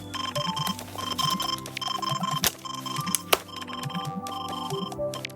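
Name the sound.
Nintendo DS alarm clock sound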